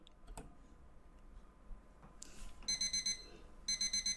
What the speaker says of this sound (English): woke up to my alarm clock.